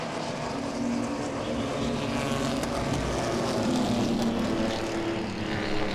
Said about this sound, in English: And the green flag flies again as Doug Warren gets into the gas.